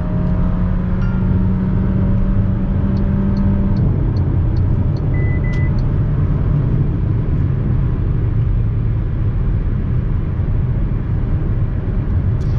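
A 2024 MG HS Exclusive with the 1.5 TGDi 172 HP engine pulls hard at full throttle, a loud sustained cabin roar and road rumble with engine tone climbing and then settling, no talking.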